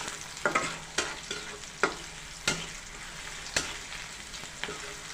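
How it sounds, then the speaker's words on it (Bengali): Onions and green chillies fry in a pan with a steady sizzle, broken by regular scraping stirs of a spatula roughly every half second to second, close and clear, with no voices. "পেঁয়াজ কাঁচামরিচ এগুলো পুড়ে না যায় যতক্ষণ না পর্যন্ত লাল হচ্ছে আস্তে লো আস্তে ভেজে নেবে"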